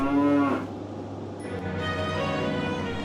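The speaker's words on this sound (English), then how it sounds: "Thomas saw a cow on the tracks in front of him." A cow on railway tracks lets out a single loud, drawn-out moo near the start, followed by a steady low rumble from a nearby engine.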